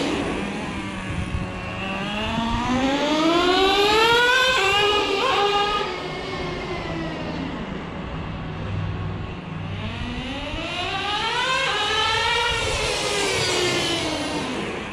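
Traxxas T-Maxx 2.5 nitro RC truck engine screaming as it revs up, shifts and winds down, then climbs again, a loud, buzzing, high-pitched whine rising and falling in two long sweeps, with no talk.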